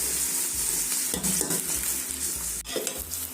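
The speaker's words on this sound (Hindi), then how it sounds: "तो अब हमने ये प्याज डाल दिए हैं, ये फ्राई कर लेते हैं।" Onions frying in a pan until golden while okra and meat curry is prepared, a steady loud sizzle with stirring scrapes and pulsing low rumbles, no talk.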